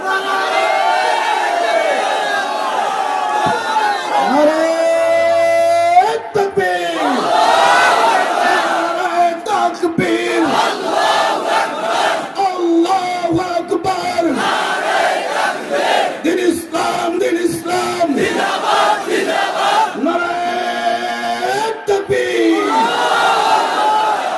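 A large crowd of young men chanting slogans in loud unison, rhythmic call-and-response shouting that rises and repeats, with a leader's voice cueing the chants over a continuous roar.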